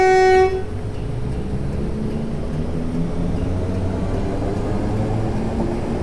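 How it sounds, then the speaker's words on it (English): In Train Simulator 2018, a passenger train departing East Croydon gives a brief horn toot, then a steady low rumble and hum as it pulls away and accelerates, continuous and fairly loud. "this train accelerates incredibly fast in game"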